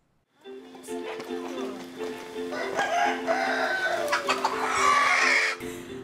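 Chickens and a rooster on a farm, clucking and crowing close by in a busy, layered chorus that builds over several seconds, with people talking underneath.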